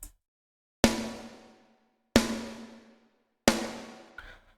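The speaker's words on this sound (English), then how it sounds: "And the snare alone sounds like this." Three separate solo snare drum strikes from the Bogren Digital Eloy Drums kit, each a sharp crack with a short ringing decay, evenly spaced and heard alone.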